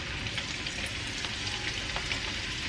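Fish pieces deep-fry in hot oil for Kerala fish pickle, a dense, steady sizzle with faint crackling pops, close and continuous throughout.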